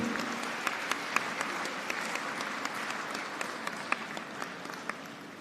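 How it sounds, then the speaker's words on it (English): Audience applause fills a hall at a university convocation, a steady wash of many hands with sharp individual claps popping out, moderately distant and sustained throughout. "Let the applause continue."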